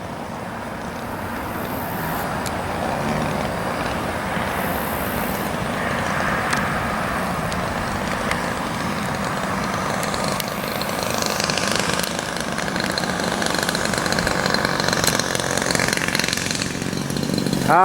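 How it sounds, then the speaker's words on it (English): A 50cc Revolver model airplane engine idles a little heavy, a steady, loud, continuous buzzing drone with a rough texture that builds slightly in strength toward the end. "It's idling a little heavy, but I don't want to kill it too much."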